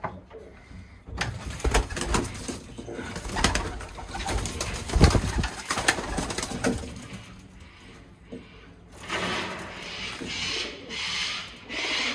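Birmingham Roller pigeons in a loft during breeding season give low, rolling coos close by, mixed with wing flutters and shuffling, with a quieter stretch before the sounds pick up again near the end.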